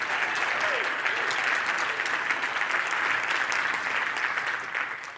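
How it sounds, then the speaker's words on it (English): A conference audience at a B2B sales event breaks into sustained applause, a dense, even roar of many hands clapping that fades slightly at the end. "Can we make a round of applause for them, please?"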